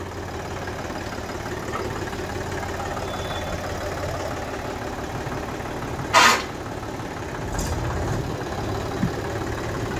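A second-hand tractor's engine runs quietly and evenly as it rolls forward, a low steady hum with a couple of brief clunks partway through.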